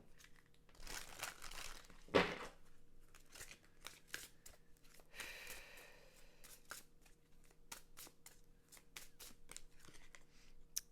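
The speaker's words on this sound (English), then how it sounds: "let's pull some of these cards and see what else comes through for you guys this month" Tarot cards shuffled and pulled, a run of crisp riffling and sliding card sounds with papery flicks, one louder burst early on, close and quiet with no talking.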